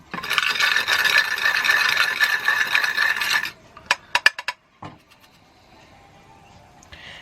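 Dry black salt ingredients ground with an old rolling pin used as a pestle in a mortar, a loud continuous gritty scraping and rasping for about three seconds, then a few sharp separate knocks and faint rubbing.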